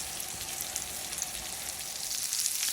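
Steak searing in a very hot skillet: a steady, dense hiss of sizzling fat with fine crackles and pops, fairly quiet and even, swelling slightly toward the end.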